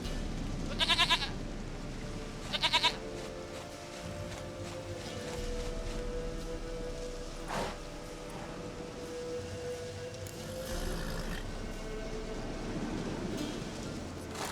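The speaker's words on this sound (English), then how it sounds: "Goat of mine, dearest," Two short, nasal goat bleats ring out in the video game The Witcher 3, early on and close together, over a steady bed of ambient game noise and a low drone.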